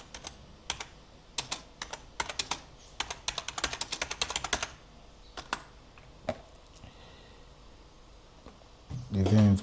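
Computer keyboard typing nearby, quick irregular key clicks in short bursts, then a few isolated taps, faint and alone, with a brief louder rustle at the very end.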